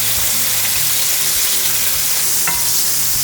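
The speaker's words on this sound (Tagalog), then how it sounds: "I-brown lang natin ang sibuyas at bawang natin." Onion and garlic frying in plenty of oil, a loud continuous sizzle with stirring scrapes and one sharp clink, close up and without talk.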